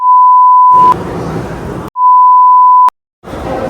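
Two loud, steady censor beeps, each lasting about a second, cut over a man's speech, which resumes between and after them.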